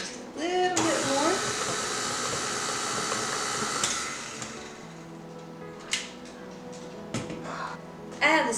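A stand mixer churns ice cream with a steady, close motor whir for about four seconds, then quiets, leaving scattered clinks and brief voices.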